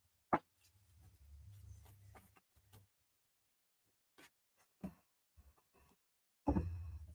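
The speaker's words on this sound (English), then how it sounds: "you see me shuffling the cards, right? I'm shuffling the cards." Tarot cards shuffled by hand at a psychic reading, giving soft papery rustles and riffles in short, quiet, uneven bursts with pauses and a few sharper taps, with no talking.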